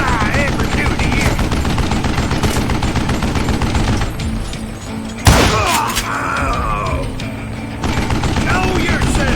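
Gunshots fill a gunfight in Call of Juarez Gunslinger, a continuous loud barrage of rapid fire with a sharp heavy blast partway through, then the shooting resumes.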